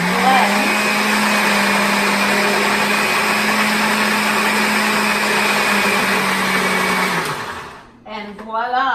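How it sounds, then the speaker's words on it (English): A kitchen blender whirs steadily while blending pesto sauce, a loud continuous motor drone that runs about seven seconds before winding down and stopping, followed by a brief bit of speech. "You have all your ingredients in the blender. Now, all you're going to do is press"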